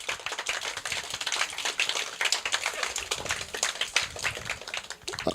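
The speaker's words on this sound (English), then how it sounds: "Give yourselves a round of applause for that." Applause from an audience at a school adoption ceremony on Jost Van Dyke, a dense patter of many hands clapping at moderate level, steady for several seconds with no voices on top.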